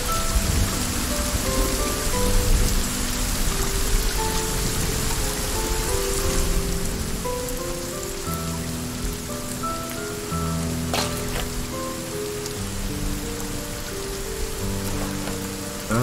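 Heavy rain pours steadily in the survival video game Sons of the Forest, a loud, dense patter on surfaces over low tonal game sounds, with no one talking.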